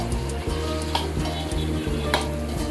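Raw mango pickle being sautéed in a pan, a steady close sizzle with rhythmic stirring scrapes and light ticks of a spoon against the metal, no voices.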